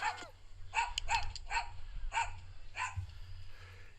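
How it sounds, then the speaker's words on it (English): Dogs bark at a rancher-style house on a country road, a series of sharp, loud yips and barks in irregular bursts with short gaps, some whimpering between, close by, with no talking. "There come the dogs."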